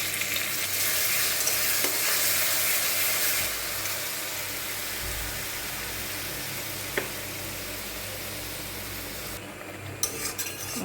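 Ground spice paste fries with onions for a prawn masala curry, a dense, loud, continuous sizzle with occasional clinks of a spoon stirring the pan and a brief lull near the end.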